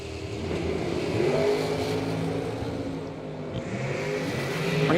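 Drag race cars launching down the strip, including a 2011 Race Tech, with engines roaring loudly and climbing in pitch as they accelerate away, steady and close.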